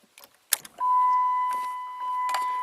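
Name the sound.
car blower fan motor running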